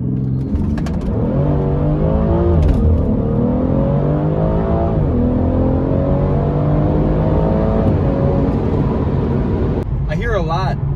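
A tuned 2017 BMW 440i M-Sport with an 8-speed ZF transmission accelerates hard, its engine note climbing steadily through several gear changes, loud and close throughout the run.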